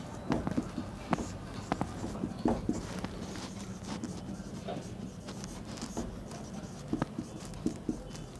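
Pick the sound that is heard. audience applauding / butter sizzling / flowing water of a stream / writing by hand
writing by hand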